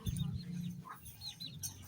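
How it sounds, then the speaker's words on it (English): Chickens on a chicken farm cluck and murmur close by in a short burst, with a low rumbling background and faint bird calls mixed in. "These are one of the cute chickens."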